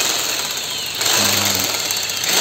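An electric jigsaw cuts through hard camphor wood for an electric guitar body, giving a loud, close, continuous buzzing rasp that steps up in intensity partway through.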